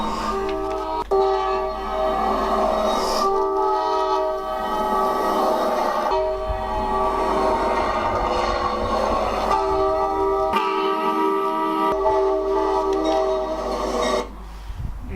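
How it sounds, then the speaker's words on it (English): A loud train rumbles past close by, horn tones sounding over the steady roar, with a brief drop in the noise before it resumes. "you get used to the train noise after a while"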